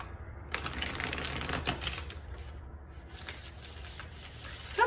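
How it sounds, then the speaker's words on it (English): Tarot cards are shuffled close by in a final round of soft, rapid riffling and shuffling, steady and quiet with brief gaps and no voice. "Last shuffle, Virgo."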